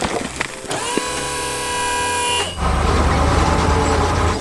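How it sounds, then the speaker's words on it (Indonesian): A blue truck hauling a heavy load lets out a long, loud horn blast, then its engine roars on as it speeds along, with no voices. "Truk biru melaju kencang membawa beban berat."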